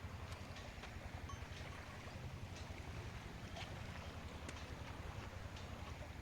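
Strong river current rushing past a dam in a forest, a steady loud roar of water with constant broadband noise and no pauses throughout.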